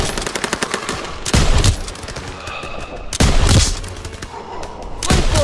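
Machine guns in the Call of Duty WWII video game open fire in rapid, loud bursts, separated by short pauses, over a battle soundscape.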